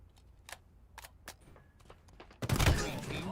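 Halo video game gunfire, starting with a few sparse single shots and clicks, then a loud sustained burst of rapid fire in the final second, with some talk mixed in.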